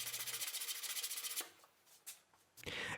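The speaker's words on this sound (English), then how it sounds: "I clean the joint with a sanding block." A sanding block rubs over a wooden half-lap joint to clean it up, first in quick rhythmic back-and-forth strokes, then in a few scattered scrapes, and finally in a short dense burst of rubbing.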